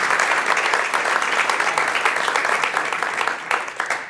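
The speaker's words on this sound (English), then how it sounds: "And I want a big round of applause." Conference audience giving a big round of applause to welcome a speaker, many hands clapping close and loud, steady at first and tapering off toward the end.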